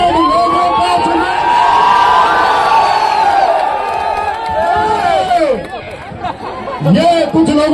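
A large crowd at a Uttar Pradesh Police constable honour ceremony cheers and whoops loudly, with overlapping shouting voices and excited chatter rising and falling throughout.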